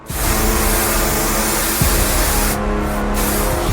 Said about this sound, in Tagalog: nakahanap ako ng spider spray mula kay Granny at gumagana talaga ito